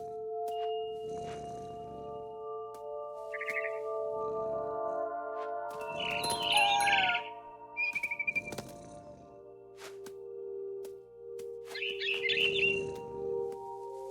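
Bird chirps in the video game What Remains of Edith Finch, short high tweets in a few separate bursts over steady ambient tones and soft rumbling thumps, moderately close.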